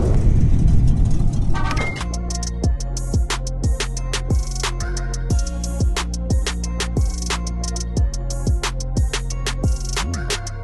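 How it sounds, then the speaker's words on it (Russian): A 2015 Chevrolet Malibu from Korea, a damaged car fitted with a two-litre VM Motori diesel engine, runs at a steady idle, its rhythmic knocking clatter repeating evenly at close range after a brief burst of louder noise. "Дизельный двухлитровый двигатель, автомобиль из Америки, корейский биток, Chevrolet Malibu."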